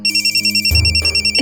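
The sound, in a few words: telephone ringing during a call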